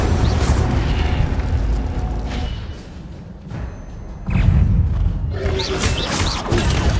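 Spell effects from the Hogwarts Legacy video game: repeated booming, whooshing magical blasts and impacts with bursts of crackling high sparkle, loud and continuous with a quieter lull midway.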